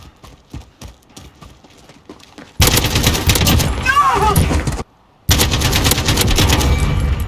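AK-47 automatic fire in a video game, a sparse crackle of shots at first, then sustained loud rapid bursts that stop briefly and resume, close and dense.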